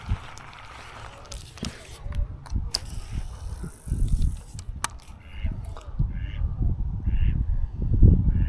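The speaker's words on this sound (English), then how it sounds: "How do you just not love ducklings?" Ducklings quack in short, soft bursts near the water, mixed with rustling, low handling noise and wind in the background.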